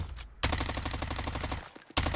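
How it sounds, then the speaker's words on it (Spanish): Rapid automatic gunfire in the Warzone video game sounds as a dense, fast string of loud shots lasting over a second, followed by a brief pause and another burst. "Él me da dos tiros y me abate."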